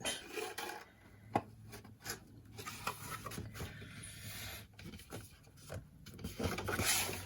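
Glue being rubbed into a small handmade craft box gives a close, continuous dry rasping and rubbing, with a few sharper taps scattered through it.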